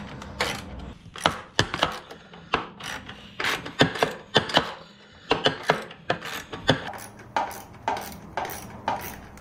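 Battery tray bolts on a Can-Am Outlander ATV are loosened with a ratchet, giving a close series of sharp clicking strokes in an uneven rhythm throughout, with no talking.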